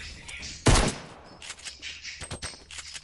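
Gunfire in a first-person shooter game: one loud, close shot with a burst of broadband noise, then a scattering of quieter shots and sharp impacts over a steady background of game ambience.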